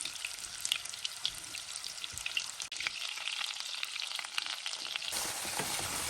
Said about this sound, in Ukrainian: Трошки обсмажимо.